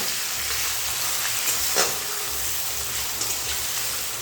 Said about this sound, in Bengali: এবারে ফোড়নের সঙ্গে এই পেঁয়াজগুলো খুব ভালো করে ভেজে নিতে হবে।